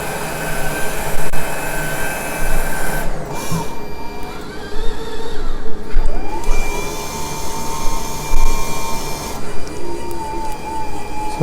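A Rotimatic automatic roti-making machine runs loudly up close with a steady mechanical whir, a high electrical whine and shifting motor tones as it works the dough and cooks a roti.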